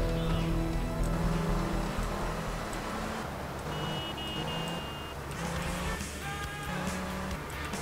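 A car drives in the video game GTA Vice City, giving a steady engine hum with passing traffic tones and shifting pitched sounds, moderately loud and continuous.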